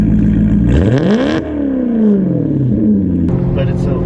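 A straight-piped, naturally aspirated V8 in a Maserati GranTurismo revs up, then falls away in a long sweeping drop before climbing again, loud and close, with someone talking over it.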